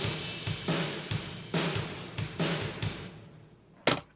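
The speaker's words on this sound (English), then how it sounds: "And we also got the room stereo microphones, which were used to record this kit from afar." A drum kit heard from a distance through stereo room microphones: a run of booming hits and crashing cymbals ringing out into the room, then a final sharp strike after a pause.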